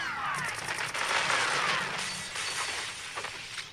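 Heavy gunfire crackles continuously in the video game Black, played on a PS2 emulator. Dense rapid bursts mix with shattering debris for the whole stretch, loud and close, with no clear talk over it.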